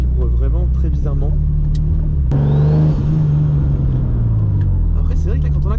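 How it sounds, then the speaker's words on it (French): Car engine fitted with reinforced engine and gearbox mounts idles with a steady low rumble and strong vibration, rising briefly as it is revved, with someone talking over it throughout. "la voiture, je pensais qu'elle tournait mal, mais en fait elle tourne bien. C'est juste que ça vibre vraiment très bizarrement"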